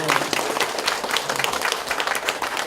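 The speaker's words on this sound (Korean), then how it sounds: "그러면 박수 치셔야 돼요." Campaign rally crowd for a Gyeonggi provincial council candidate breaks into applause, a dense, close burst of many clapping hands that stays loud and steady with some crowd noise.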